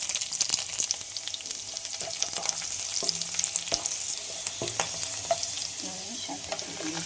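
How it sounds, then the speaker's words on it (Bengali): Green chilli and chopped garlic frying in ghee in a pan, a close, crackling sizzle with sharp spits and pops and occasional stirring scrapes. "আমি ঘি দিয়েই ভাজবো সম্পূর্ণ শাকটাকে। দিয়ে দেবো কাঁচা লঙ্কা সেটা, আর কিছু পরিমাণে রসুন কুচানো।"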